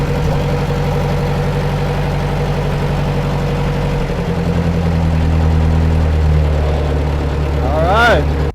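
A Ford NAA tractor engine runs with a little choke, a loud, close, steady low rumble that deepens partway through and ends in a brief rising whine.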